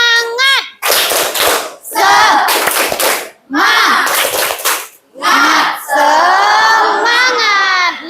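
Junior high school class doing a rhythmic spirit clap, bursts of group hand claps in a patterned beat mixed with children chanting loudly together between pauses.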